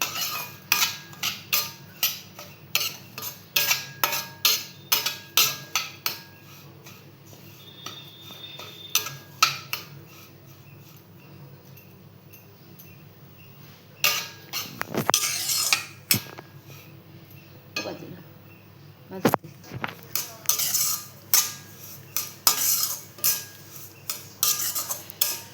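A mango sheera mixture roasts in hot ghee in a pan. A spoon scrapes and clinks against the metal in quick, rhythmic strokes, pausing briefly midway before resuming, with a soft sizzle underneath and no talk.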